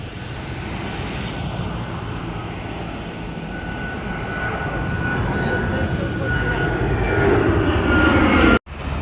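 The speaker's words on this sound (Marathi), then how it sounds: "दोन विमानं उतरले आणि एक उडलं मस्तपैकी" An IndiGo airplane takes off directly overhead at Leh, its engine roar loud and steadily swelling as it climbs close above, then cutting off abruptly near the end.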